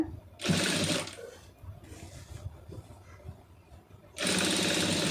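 An electric sewing machine stitches a saree fall in two loud, rapid whirring bursts at the start and end, with quieter cloth handling and faint clicks in between.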